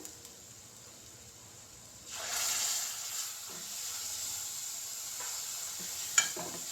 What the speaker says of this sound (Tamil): பச்சை வாசனை போகுது வரைக்கும் வதக்கும்.